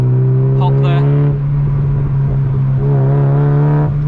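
Mazda MX-5 Mk2 roadster accelerating hard on a UK road, a loud steady engine drone holding throughout with a brief rising rev flourish, heard from inside the cabin.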